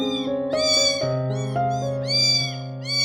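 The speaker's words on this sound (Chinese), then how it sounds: "这马路边上怎么还有小猫呢？" Abandoned kittens by a roadside meow repeatedly, several high, clear cries in quick succession, close and loud over faint background noise.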